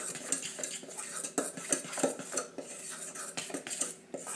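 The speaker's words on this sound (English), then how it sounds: "I'm going to mix that together with a fork in this bowl" A fork scrapes and clinks steadily against a bowl while mixing flour, salt and canola oil, with quick repeated taps and scratchy stirring strokes heard up close and alone.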